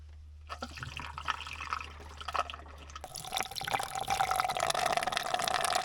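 Water is delivered into two campervans, a steady running, filling flow that grows louder and fuller halfway through, with dripping and splashing and no talk.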